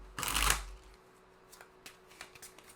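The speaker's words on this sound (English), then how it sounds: "I'm going to do one more shuffle." A deck of playing cards is riffle-shuffled in one quick, crisp burst, followed by a few soft taps and card handling sounds.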